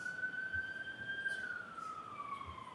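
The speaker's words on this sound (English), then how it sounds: "I just wanted the siren to go by." A siren on an emergency vehicle passes outside a courtroom during a murder trial, heard as a steady tone that holds, then falls in pitch as it moves away. It stays at moderate distance, with no talking.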